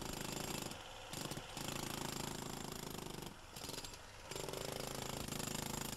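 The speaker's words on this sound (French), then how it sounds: "Le recépage est effectué avec le marteau-piqueur." A jackhammer breaks poor-quality concrete off the head of a foundation pile on a building site, hammering loudly and continuously with two short pauses, with no talking.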